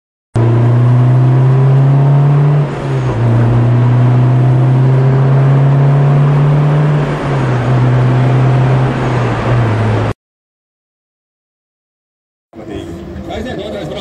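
A drift car engine at the Daugavpils drift festival holds a loud, steady high rev for about ten seconds with slight pitch dips, then cuts to silence before a brief rumble returns.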